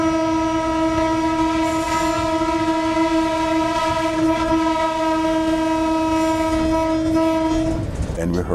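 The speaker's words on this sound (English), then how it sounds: "Passengers on the train reported hearing 3 blasts from the train whistle." Train whistle from a 1957 Kendal, Jamaica train sounding one long, loud, steady blast above the rumble of the moving train, then cutting off near the end.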